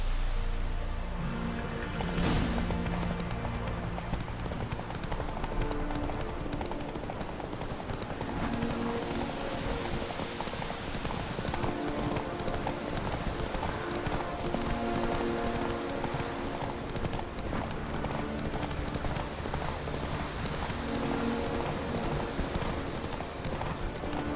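Galloping horses race in The Witcher 3, a steady clip-clop of hooves running continuously at close range over a dense bed of game music, with an occasional whinny and no speech.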